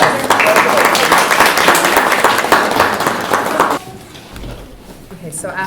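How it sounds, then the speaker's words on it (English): Round of applause at a board of education meeting, a dense burst of clapping from a roomful of people lasting several seconds before cutting off into quiet room noise and a few voices. "we'll give you another round of applause."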